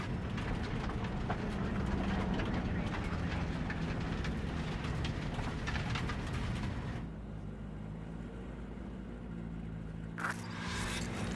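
A train rolls along the rails in the video game Cyberpunk 2077, a continuous loud rumble and rattle that softens partway through, then a brief scrape near the end, with no talking.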